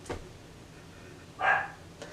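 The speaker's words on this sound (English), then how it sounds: "My dog is barking." A dog barks once, fairly near, with a faint softer sound before and after it, over a steady background hum.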